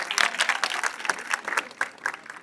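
An audience at a movie teaser launch event claps, a dense stretch of many hands applauding together, close and lively throughout.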